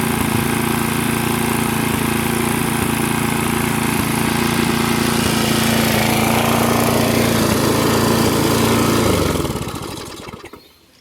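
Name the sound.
neglected lawn mower engine running with occasional miss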